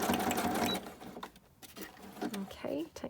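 A sewing machine backstitches on a fabric junk journal cover, a quick close mechanical whirr in short bursts with pauses, and a voice talks over parts of it.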